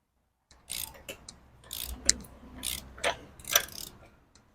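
A ratchet wrench clicks in several short bursts while loosening a tight nut on a 2014 Chevy Silverado 4x4 lower ball joint, close and metallic with brief pauses between pulls.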